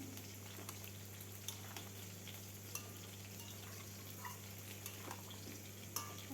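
Jackfruit curry with ghee is stirred in a pan over a soft, steady sizzle, with faint scraping and occasional light clinks of the spoon against the pot.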